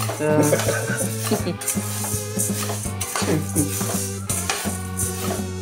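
Moong dal is dry roasted in a pan and stirred with a metal spoon. Rhythmic scraping and clinking sounds close by over a steady hum, with no voices.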